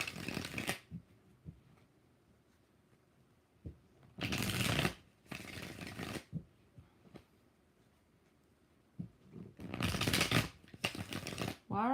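Tarot cards being shuffled in several separate bursts of riffling, each a second or so long, close and crisp, with quiet pauses and soft handling taps between them.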